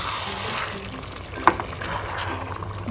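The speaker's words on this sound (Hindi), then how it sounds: "इसको थोड़ा सा फुल्ली फ्राई नहीं करना है, हल्का सा फ्राई करेंगे।" Marinated chicken pieces lightly frying in a kadhai, a steady soft sizzle and crackle running throughout with one brief clink of stirring midway.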